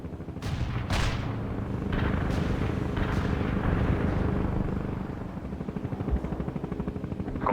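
A heavy artillery barrage in the World in Conflict video game: several sharp, distant blasts land over the first few seconds, set against a thick, rumbling drone that persists throughout.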